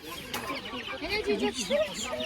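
Chickens cluck and murmur at a poultry market, a busy jumble of close bird calls with people talking over them.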